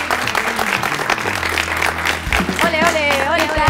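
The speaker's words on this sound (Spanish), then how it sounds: "un fuerte aplauso" A studio audience at a school television show claps loudly and continuously to welcome a guest. A low musical tone sounds underneath, and voices cheer and call out near the end.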